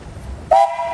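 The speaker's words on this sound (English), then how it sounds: "Hey guys, you got a whistle." A steam tractor at a parade gives a short, sharp whistle blast that cuts in abruptly over low background rumble and then holds.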